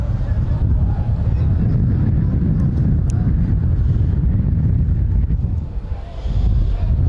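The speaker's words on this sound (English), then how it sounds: "The wind, if anything, seems to be increasing from the right to left, and Lawford tags on another two" Strong wind buffeting the microphone at a Halifax versus York rugby league match, a steady low roar and rumble throughout with a brief dip near the end, under a commentator talking.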